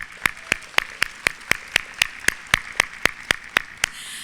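Rhythmic, evenly spaced claps ring out at the Richland One Hall of Fame Induction Gala, about four per second, crisp and close for roughly four seconds, with a faint murmur underneath.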